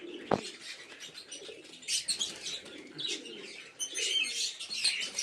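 A pair of chocolate doma pigeons coo softly at close range, with chirps, a brief flutter and a sharp knock near the start, and no voices.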